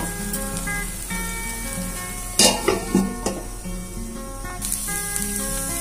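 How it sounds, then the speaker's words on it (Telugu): Stuffed brinjal masala curry cooks in oil on a low flame, with a soft continuous sizzle beneath a steady background tone, punctuated by a few sharp bursts of spattering and stirring clatter midway. "దీన్ని ఒక 15 మినిట్స్ పాటు లో ఫ్లేమ్ లో పెట్టుకొని మగ్గించుకుందాము ఆయిల్ అంతా పైకి తేలేంత వరకు"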